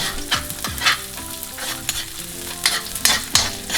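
Garlic sautéing in a pan for chop suey, a bright steady sizzle punctuated by a handful of sharp spatula scrapes and knocks against the pan, close up with no voices.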